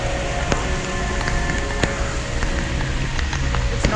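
Heavy rain drums steadily on and around a rider during a motorcycle ride, a dense, loud hiss of drops with occasional sharper splats, continuous with no speech.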